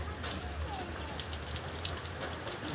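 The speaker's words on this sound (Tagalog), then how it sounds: "Lakas ng ulan." Heavy rain pours steadily onto surfaces, a dense continuous hiss with drops pattering throughout, fairly near and unbroken for the whole stretch.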